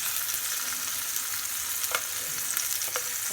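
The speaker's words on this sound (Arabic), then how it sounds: "تنخليها غير شويه تقلى تعطي واحد الريحه رائعه" Food sizzles steadily in a hot pan, a dense continuous crackle of frying with a few faint scrapes or stirs near the end and no voices.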